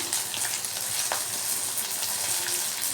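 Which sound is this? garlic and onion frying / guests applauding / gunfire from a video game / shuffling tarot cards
garlic and onion frying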